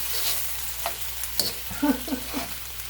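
Chinese food cooking in a pan gives a soft, steady sizzle, with a few clattering stirs and utensil knocks near the middle, close by and with no talking.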